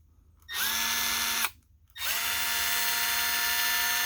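A Milwaukee M12 hex screwdriver spins slowly with a steady electric whine, running for about a second, stopping briefly, then starting again and holding its even buzz to the end.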